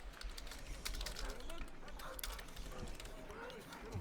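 Fast, steady tapping on a loud, crisp computer keyboard, faint and continuous in the background with a little room noise.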